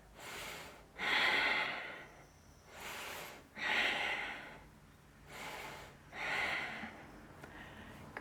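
Slow, audible breaths are drawn in and let out during a yoga pose, several even cycles of inhale and exhale, close and soft with no talk.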